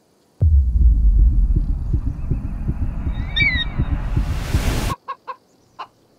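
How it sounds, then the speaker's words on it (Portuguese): A chicken in the video game Assassin's Creed Odyssey gives a rapid run of low, throaty clucks for several seconds, loud and close, then stops abruptly, followed by a few short separate game blips. "Nossa, a galinha toda torta ali"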